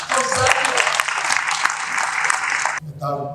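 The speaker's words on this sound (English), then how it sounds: "A round of applause for" Conference audience at an annual World Bank and IMF meeting breaks into a broad, dense burst of applause that ends abruptly, followed by a moment of a voice speaking.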